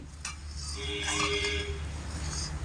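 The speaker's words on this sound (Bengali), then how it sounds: "আমুল দুধ দিয়ে এইভাবে অনবরত নাড়াচাড়া করে ভালো করে দুধের সঙ্গে মিশিয়ে নিচ্ছি" Amul milk for sago payesh is stirred continuously in a metal pot, a soft, steady swirl with light scraping and faint clinks of the spoon against the sides.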